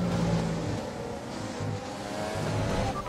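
A Formula 1 car in the F1 2020 racing game accelerates back up to speed after a safety car period. The engine produces a steady, high-pitched whine at moderate volume with no talking.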